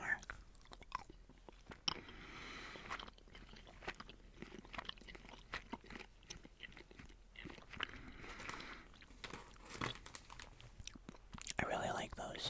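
Squashies, fluffy chewy candies, chewed close to the mic in a quiet room with soft, irregular wet chews and small crunchy bites running throughout, plus faint mouth noises.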